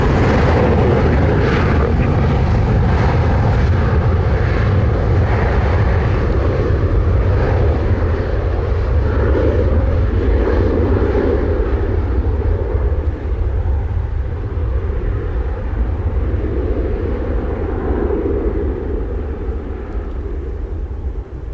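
A propeller airplane approaching the runway at Montego Bay, Jamaica, its steady engine drone holding loud and continuous throughout, fading only slightly toward the end.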